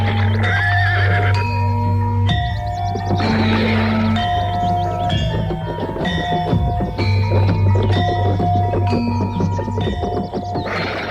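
A horse neighs repeatedly in loud, bright whinnies over rhythmic clip-clopping hooves, close and continuous, with no speech.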